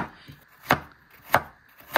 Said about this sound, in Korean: 이거는 꼭 편을 쓸어줘. 얇게 이렇게 편 쓸어, 이렇게.